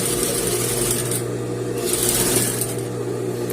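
A sewing machine runs steadily while stitching a princess-seam dress, a continuous close mechanical hum with a faint swell near the middle and no talking.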